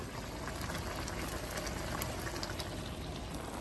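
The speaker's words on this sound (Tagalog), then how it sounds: "Kumukulo-kulo pa guys ang ating chicken adobo" Steady bubbling of chicken adobo simmering in a pot on the stove, a dense low burble with small pops, constant and close.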